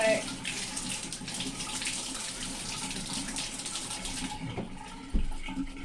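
Tap water runs steadily as dyed fabric is rinsed in a sink or tub, a close, continuous splashing hiss that stops near the end, followed by a brief thump.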